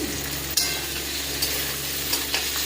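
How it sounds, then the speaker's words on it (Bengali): Onion and whole garam masala spices with dried chilli and whole garlic fry in a pan for a mutton curry, a steady close sizzle with occasional stirring scrapes and no voices. "দিয়ে মশলাটা পেঁয়াজটা একটু ভেজে নেব"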